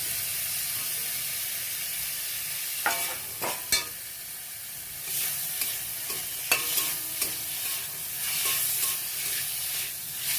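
Cooking in fish oil produces a constant hissing sizzle, punctuated by several sharp clanks and scrapes of stirring that come in irregular bursts, with no speech.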